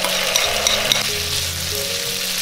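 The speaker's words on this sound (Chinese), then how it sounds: "接着把料汁淋进来。" Sauce poured into a wok of beef brisket stir-frying with ginger, oil and cooking wine, giving a loud continuous sizzle with scraping stir strokes, close and without speech.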